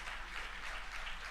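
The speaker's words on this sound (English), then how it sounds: "you can probably hear the cheering behind me" Crowd cheering and applause at a SpaceX Falcon 9 first-stage landing during a CRS-27 launch broadcast, a steady, distant wash of many voices and clapping sustained throughout without a break.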